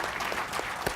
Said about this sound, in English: So can we have a round of applause to welcome our